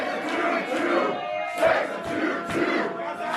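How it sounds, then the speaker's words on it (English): Wrestling crowd at a Nordic Elite Wrestling event chanting in rhythmic, swelling bursts, a dense roar of many voices filling the arena with periodic louder surges. "And the crowd chanting."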